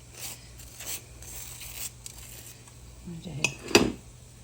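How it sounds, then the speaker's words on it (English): Metal cutlery clinks against plates and dishes while toast is buttered, a few sharp clinks near the end over soft kitchen background sounds. "Put some butter on our bread."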